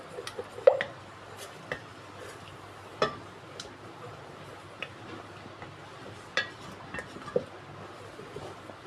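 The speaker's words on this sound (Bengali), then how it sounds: "টক দইটাকে আমি একটু পেস্ট করে নিয়েছি যাতে রান্নার সুবিধার্থে। এবার আমি এটাকে পুরো মিশিয়ে নিলাম।" Sour yogurt paste is stirred into a dish cooking in a pan, with a spoon giving sparse, scattered clinks and taps against the metal over a quiet background.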